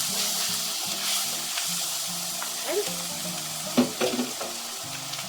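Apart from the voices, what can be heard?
garlic sizzling while cooking in pot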